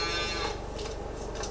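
Cattle moo in a Farming Simulator 22 dairy farm setting, a brief low moo over a dense, steady farm ambience.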